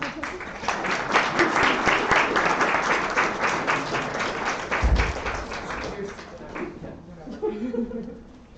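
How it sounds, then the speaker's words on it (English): Audience applause at an annual reception, a roomful of hands clapping steadily for about six seconds before tapering off into faint murmurs and a few scattered claps near the end. "Please, round of applause."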